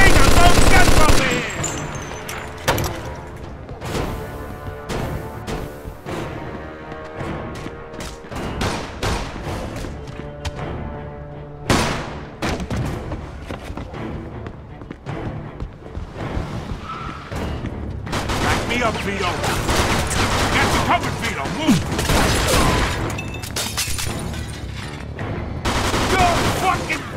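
Bursts of gunfire in the Mafia 2 video game, loud and repeated throughout, from rapid machine-gun fusillades to heavy booms, with voices shouting over the shooting at times.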